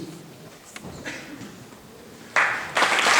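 Audience applause at the start of a school show of songs and theatre swells suddenly in the last second, loud after a quieter stretch with faint voices.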